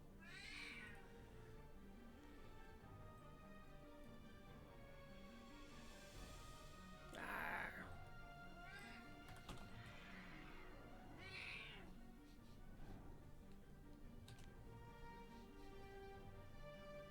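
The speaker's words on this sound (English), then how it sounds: "Shut up, cat." A cat in a fantasy video game meows repeatedly, several short calls spaced over a steady background of game music and ambience, fairly quiet overall.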